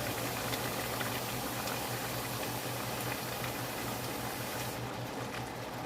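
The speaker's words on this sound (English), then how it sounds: "Then you have to wait till it starts boiling." Water boiling vigorously in a pot, a constant dense bubbling roar with a low hum underneath, close and steady throughout.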